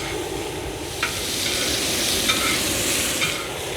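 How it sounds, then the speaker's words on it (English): Chicharrones fry in melting pork fat while being stirred, a continuous dense sizzle and hiss broken by occasional scraping clicks of the stirring utensil, close and steady with no talking. "You want to keep moving the chicharrones, and we're going to melt down that fat."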